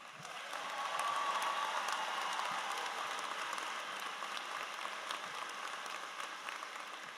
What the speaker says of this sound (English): Let's get a quick round of applause, please.